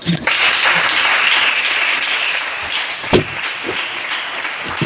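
A congregation applauds during a church worship service of praise, a dense, steady wash of clapping that holds throughout with a few sharper claps standing out near the end.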